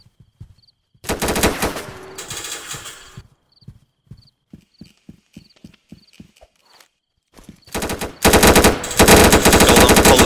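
Rapid automatic gunfire in a Roblox shooting game, two loud sustained bursts at the start and end, separated by a quieter stretch of evenly spaced clip-clop-like footsteps.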